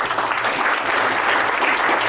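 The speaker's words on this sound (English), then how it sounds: "Give them a big round of applause." A big round of applause from an audience after an interview, loud, dense and continuous clapping from many hands, sustained evenly throughout without any pause.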